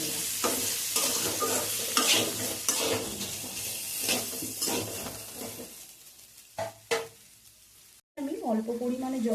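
Ridge gourd, potato and drumstick curry with ground coriander being stirred and fried in a pan, a steady sizzle with repeated scraping strokes of a spatula, close and fairly loud, ending with a short burst of speech.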